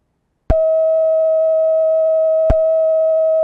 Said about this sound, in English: We've got it to the point now where the model is just oscillating continually.